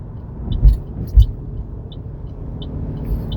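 A rideshare car cruising along Likelike Highway in Honolulu, Oahu, gives a steady low road rumble inside the cabin, broken by a couple of short thumps, with no talk over it.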